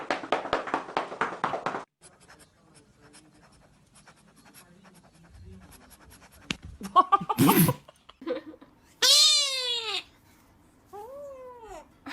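Cats in short internet clips make sneezy bursts and scattered scuffling, then two loud, drawn-out meows rise and fall near the end.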